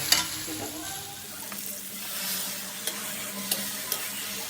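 Poppy seed paste frying with ridge gourd and boiled potato in a pan, a steady close sizzle with occasional sharp clicks of stirring, no talking.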